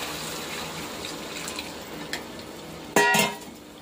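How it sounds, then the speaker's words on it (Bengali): Hot water poured into a cooking pot while making a paneer butter masala style curry, a steady soft wash of flowing liquid with a louder gushing splash near the end. "গরম জলটা দিয়ে দেবো।"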